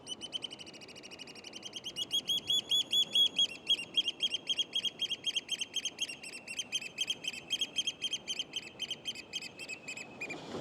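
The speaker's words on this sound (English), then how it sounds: "What a display from that bird." A bird calls outdoors in a long, rhythmic series of sharp, repeated high-pitched notes, fairly close and persistent, with faint background ambience and no talking.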